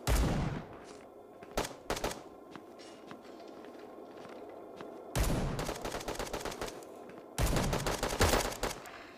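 Gunfire in the mobile shooter Bullet Echo, sharp bursts of automatic fire in three loud clusters separated by quieter stretches with faint footsteps and ambience.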